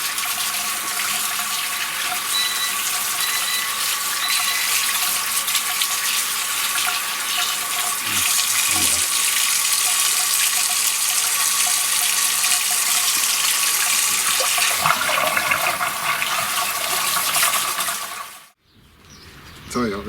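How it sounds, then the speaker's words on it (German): Running tap water pours steadily for about eighteen seconds while wild garlic is washed under it in a kitchen sink, a close, continuous splashing that cuts off abruptly near the end. "jetzt den Bärlauch gründlich waschen."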